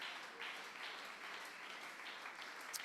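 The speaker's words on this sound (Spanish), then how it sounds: "Alabe al Señor con ese aplauso fuerte." A church congregation applauds during worship, a faint, distant wash of steady clapping with no clear individual claps.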